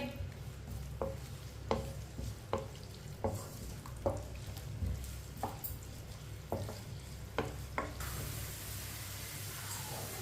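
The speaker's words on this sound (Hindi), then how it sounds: "एक बारीक कटा हुआ प्याज। प्याज को हल्का सा ब्राउन कर लेंगे।" Finely chopped onion frying in a pan until lightly browned for aloo tinday sabzi, a steady close sizzle broken by regular scraping stirs of a spoon against the pan, with no talking.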